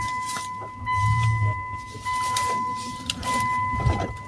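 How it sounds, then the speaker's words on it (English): A 2006 Lexus RX300 reverses slowly in a driveway with a service truck parked behind, giving a steady low engine hum close by, overlaid by thin constant whining tones and a few soft knocks. "I'm going to back up here and get a little straighter in the driveway here."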